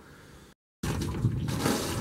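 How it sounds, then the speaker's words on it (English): Water gushes from a hand pump into a jug at an off-grid yurt homestead, a steady close splashing rush that breaks off briefly and then resumes more loudly. "time to do another one of the pretty much daily chores of going and pumping water and hauling it up"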